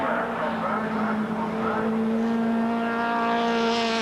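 British Touring Car Championship race cars from 1990 on the last lap, a loud steady engine drone with high sustained tones, heard up close and continuous.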